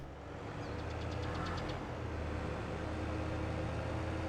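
A tractor engine in Farming Simulator 22 runs at a steady idle, a low, even mechanical hum with a faint rattle, moderately quiet and unbroken throughout.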